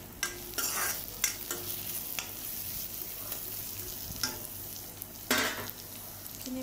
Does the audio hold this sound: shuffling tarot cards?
no